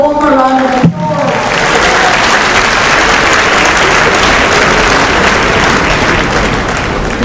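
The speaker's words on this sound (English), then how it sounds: "Let's give them a warm round of applause." Loud, dense applause from a crowd at an African climate summit for a group of young people, sustained and even throughout after a brief voice at the start.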